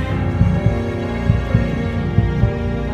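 A pulsating artifact in the S.T.A.L.K.E.R. video game gives off a steady, deep throbbing, with soft rhythmic thumps repeating about twice a second over a low hum.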